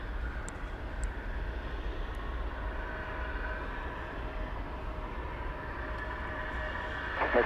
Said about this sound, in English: Next out of the chute is Spirit Flight 1768 to Los Angeles.